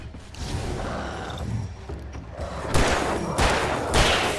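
Sharp bursts of gunfire in the video game Alan Wake Remastered crack out over a busy mechanical clatter, with a few distinct shots standing out toward the end.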